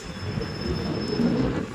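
A train rumbles at a railway station platform, a steady low mechanical roar with a faint high squeal running through it, fairly close and continuous.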